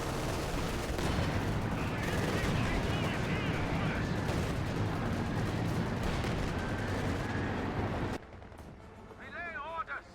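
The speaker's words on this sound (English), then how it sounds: "A lot of arty coming down now here." Artillery fire in a Company of Heroes 2 4v4 match, a dense, continuous barrage of booming shells and crackling gunfire that cuts off abruptly near the end, with commentary talking over it.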